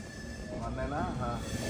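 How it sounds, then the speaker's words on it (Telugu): A train pulls into platform 1 at Nagpur Junction, its wheels giving short rising metallic squeals over a low rumble, with faint voices in the background. "ప్లాట్ఫామ్ నెంబర్ 1కి అయితే వచ్చింది మన ట్రైన్"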